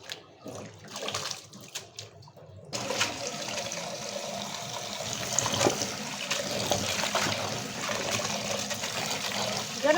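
Fresh young mixed leafy greens being washed in water, with splashing, sloshing and trickling that starts quietly with small splashes, then rises after a few seconds into steady running, rushing water up close.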